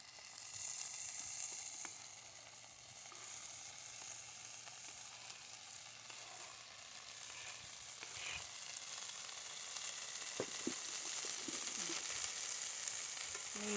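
Fresh farm tomatoes sizzle and fry in a pan with a steady, close hiss that runs throughout, with a few small pops and stirring scrapes near the end.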